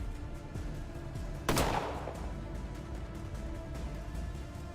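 A single loud shotgun blast in the Colony Ship video game, one sharp close burst with a short decaying tail, heard over steady low ambient game noise.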